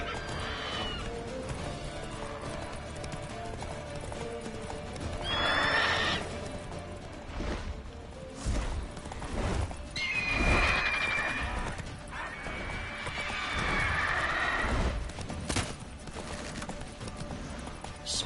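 In The Witcher 3 video game, a horse gallops with hoofbeats and gives sharp neighs and whinnies over game sounds and music, fairly loud and up close.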